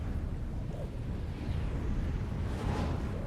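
Dwarf artillery cannons firing at a hell cannon in a fantasy battle game: dense, continuous rumbling blasts and explosive roar filling the whole stretch, with a swell near the end.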